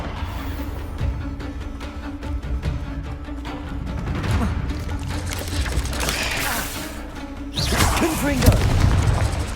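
Confringo fire spell blasts in Hogwarts Legacy, booming over a steady background of mechanical game sounds, with a louder burst near the end.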